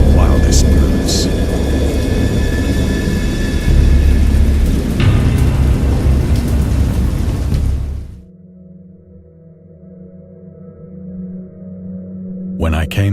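Heavy rain pours with deep rumbling thunder for about eight seconds, loud and enveloping, then cuts abruptly to a low, dark drone before faint sounds swell again at the end.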